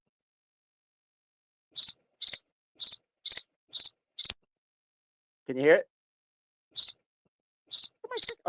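Crickets chirping, played back as an example: short, bright, evenly spaced chirps in small pulses that pause briefly while a voice speaks, then resume.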